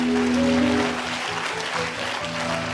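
An audience in a church claps, a loud dense wash of applause that fills the space and tapers slightly, with a sustained tone underneath.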